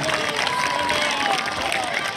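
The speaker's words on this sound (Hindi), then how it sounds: "इन छोटे छोटे नौजवानों के लिए भरपूर तालियां" Crowd noise at a school sports gala during a children's stick-fight display, a continuous wash of applause and cheering with voices mixed in, loud and sustained throughout.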